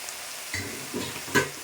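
Amaranth leaves, freshly washed, are added to a hot pan and stirred as they fry, giving soft, faint sizzling bursts and scraping stirs in short irregular pulses, close by, with no talk.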